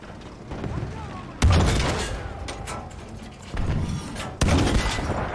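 Gunfire in Battlefield V during a World War II battle with a tank nearby, heard as loud booming shots and rattling bursts with mechanical clatter in between.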